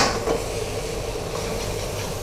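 Shrimp fried rice stir-fried in a pan with a little extra oil and XO sauce gives a steady close frying hiss with faint scraping and clinks of the utensil, no talk.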